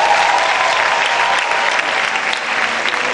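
Loud, sustained applause fills a university inaugural lecture hall, many people clapping together in a dense, even roar.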